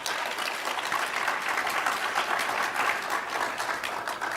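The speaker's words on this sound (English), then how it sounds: "Please put your hands together for a louder applause for Daji." A large audience at the SOUL Leadership Conclave claps loudly and continuously. The applause is a thick, even wash of many hands with a faint crowd murmur beneath.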